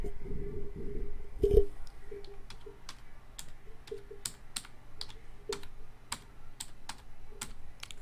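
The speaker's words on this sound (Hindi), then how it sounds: "राइट रोम फाइल लिखकर आपको एंटर मार देना है" Keys click in a quick, irregular series of distinct taps as a command is typed on a Dell laptop keyboard during BIOS editing. The sound is close and fairly quiet, with a low hum underneath and no talking.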